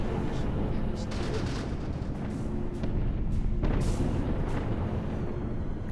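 Spaceship weapons fire at asteroids in the Sins of a Solar Empire game, a dense, continuous rumble of booms and blasts that stays loud and unbroken throughout.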